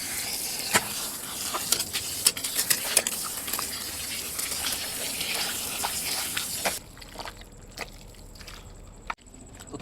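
Water poured onto potting soil for a lotus tuber gives a broad, rushing splash with scattered patters, fairly loud and close, then drops to a quieter trickle for the last few seconds.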